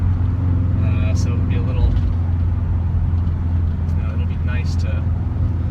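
A Subaru STI with a manual transmission runs under throttle, its engine a steady low droning hum that continues beneath someone talking throughout.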